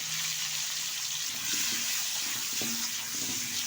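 Peeled, washed new potatoes tip into a hot pan of oil and start frying, giving a steady close sizzle with a few soft clinks and stirring knocks; nobody speaks.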